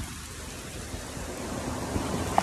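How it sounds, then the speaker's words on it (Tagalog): Steady rain pours outdoors in a dense, even hiss that holds for a couple of seconds, close and fairly loud with no voices over it. "basa kami ng ulan"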